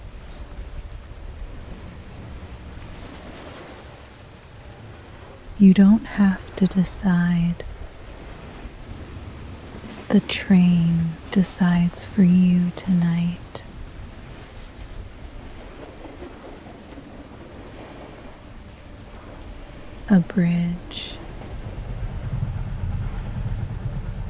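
Steady rain pattering softly on train window glass, a continuous gentle hiss underneath a calm voice speaking at intervals, with a faint low rumble at the end.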